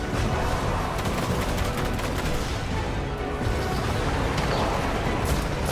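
Continuous gunfire from the video game Destiny, a dense, loud barrage of rapid shots and bursts running steadily through the whole stretch with no pauses.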